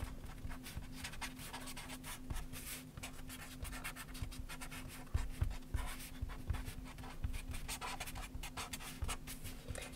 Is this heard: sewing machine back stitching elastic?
no